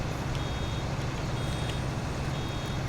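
Intermittent electronic warning beeps from a round baler in Farming Simulator 19 sound faintly above a steady, loud rumble of tractor engine noise that runs throughout.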